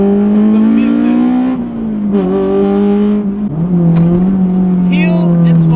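A Honda S2000 engine revs loudly and steadily while driving, its pitch dipping and climbing with heel-and-toe gear changes, close and continuous for the whole stretch.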